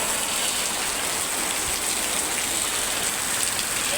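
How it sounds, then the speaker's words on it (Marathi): Steady rain pours down close by, a dense, even hiss of drops on surfaces that holds constant with no pauses and no voices. "मस्त असा पाऊस सुरू झाला"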